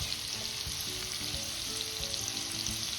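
Potatoes with grated ginger and chopped green chili fry in a pan, giving a constant soft sizzle with light stirring scrapes and no talk.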